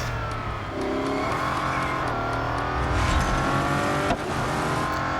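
A Bugatti Chiron in the racing game Real Racing 3 roars steadily, then its engine note shifts as it slows under braking with a brief squeal of tires, loud and close with no talk.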